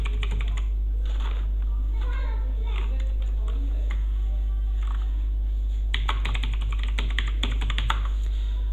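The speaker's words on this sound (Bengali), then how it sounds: "তারপরে আমাদের আধার নাম্বারটি আমরা এখানটায় এন্টার করব" An Aadhaar number is typed on a computer keyboard in quick bursts of clicky keystrokes, close and clear, with a pause in the middle and a denser flurry near the end.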